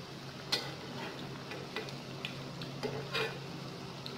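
Potato and onion pakoras deep fry in oil, a soft, low sizzle broken by occasional light clicks and taps from stirring.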